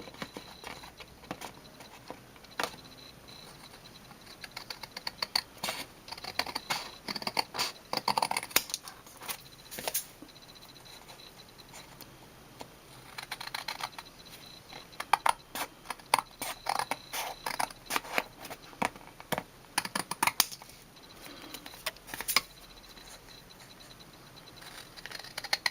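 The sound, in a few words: scissors trimming around a paper card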